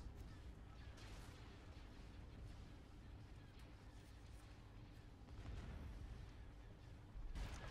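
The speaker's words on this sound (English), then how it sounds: "look at all the missiles and turbo laser fire" Missiles and turbolaser fire rumble through a space battle at Coruscant in a Star Wars Empire at War mod, a dense, continuous roar of distant blasts with louder bursts swelling toward the end.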